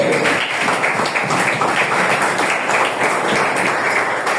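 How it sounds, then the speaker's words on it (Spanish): Church congregation clapping hands together in steady, dense applause, a continuous wash of claps filling the room at close range. "Dale palmas a Dios"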